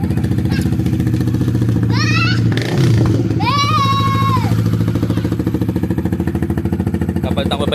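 An RS150 motorcycle with a smoking negative terminal and a blown fuse runs at a steady, loud idle throughout. Its throbbing engine continues while voices talk briefly over it.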